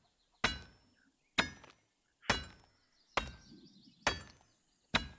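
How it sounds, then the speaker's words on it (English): In the game A Township Tale, a makeshift hammer strikes a blade on an anvil. Six slow, evenly spaced metallic clanks each ring briefly and fade before the next hit. "pick up my makeshift hammer, pull out my blade, put it on the anvil, and start hammering"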